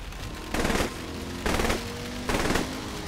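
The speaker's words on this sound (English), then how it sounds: "Use the machine gun then, not the cannon." Bursts of automatic machine gun fire in the video game Saints Row The Third, three short rapid volleys separated by pauses of about half a second, loud and close with no speech over them.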